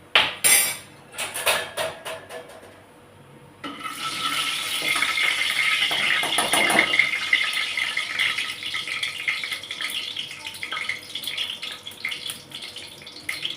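A small metal ladle clinks and scrapes in a cooking pot of onions being fried, with a burst of sharp clatters near the start, then a steady dense rattle and sizzle close by, with no talk.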